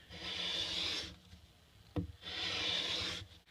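A chisel is sharpened on an 800 grit abrasive in two long, even rasping strokes, with a single sharp knock between them, close and fairly quiet.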